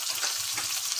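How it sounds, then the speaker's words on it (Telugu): Sliced red onions fry in hot oil in a pan for an uggani breakfast dish, giving a dense, steady close-up sizzle and crackle over a brief moment. "దాని తర్వాత ఎర్రగడ్డలు వేసుకుందాము."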